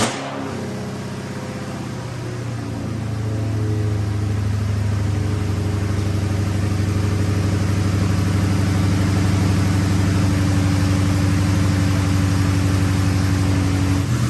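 Police car engine idling with a hole in its gas tank, a steady close low hum with a strong even drone that swells slightly after the first few seconds and then holds.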